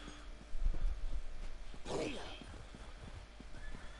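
A horse whinnies once in the middle of Elder Scrolls Online, over the steady clip-clop of hooves walking, with some low game-like background rumble.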